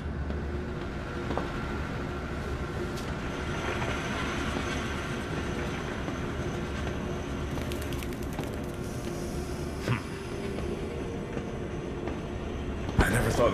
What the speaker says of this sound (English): Now activate the lever to lower the gadget trolley. Now drag the trolley to the gates.